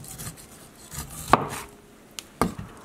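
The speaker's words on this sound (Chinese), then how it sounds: "玉米粒儿切下来" A knife cuts cooked corn kernels off the cob on a board, giving two sharp, close chopping strokes about a second apart against a quiet kitchen background.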